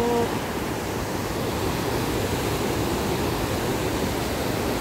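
Water pours steadily at a natural spring, a dense, even rush that stays loud and close throughout with no voices.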